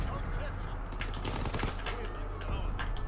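Gunfire in a shooter video game, rapid bursts of shots and mechanical clatter under a steady background, with a player talking over it.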